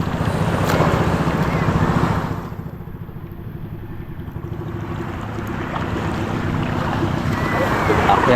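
A small boat rides on open water, with wind buffeting the microphone and waves washing around the hull as a steady, close rumble that briefly dips midway before building again.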